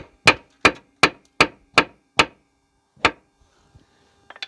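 A hammer taps a car's lower suspension arm up into its bottom ball joint on a Fiat Punto, six sharp evenly spaced metallic knocks followed by one more after a pause, then a few faint clinks.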